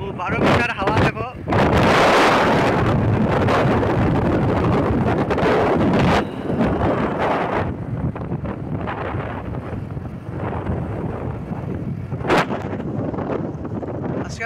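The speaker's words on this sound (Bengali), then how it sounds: "হাওয়া দেখো" Strong wind buffets the microphone during a motorbike ride between Assam and West Bengal, a loud, continuous roaring gust that surges and eases over the whole stretch, with brief speech mixed in.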